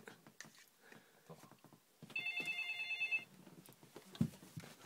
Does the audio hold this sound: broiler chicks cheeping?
no